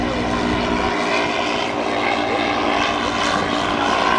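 A 1911 Wright B Military Flyer replica airplane flies at the 2009 Dayton airshow, its propeller engine giving a loud, steady, rough drone that fills the scene throughout.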